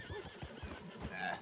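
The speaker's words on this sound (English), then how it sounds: "You got a problem with that horse?" A horse whinnies in a short, wavering call over a steady background of Red Dead Redemption 2 game ambience and soft thuds.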